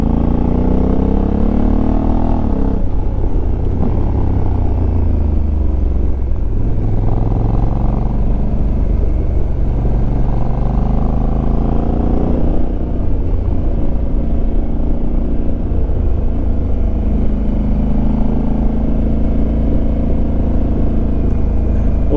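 A Honda Africa Twin motorcycle ridden at full throttle over a mountain pass, its engine roaring loud and continuous, rising and falling in pitch through shifts and revs, heard up close with wind rumble beneath.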